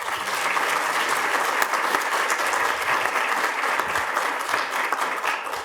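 A lecture audience applauds to welcome the new dean of a university's liberal arts college, the dense clapping close and loud, sustained evenly throughout.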